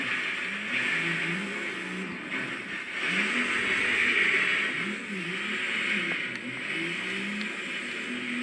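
A truck engine in Forza Horizon 3 on snowy mountain terrain, revving in repeated rising and falling surges at a steady moderate level.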